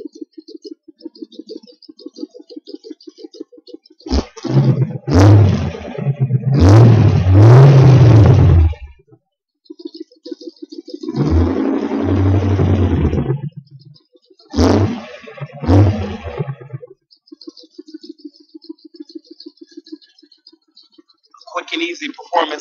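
V8 engine with a Thrusher glass pack exhaust, blipped through a few loud, close revs that rise and fall in separate bursts, with someone talking between them and a steady idle burble underneath.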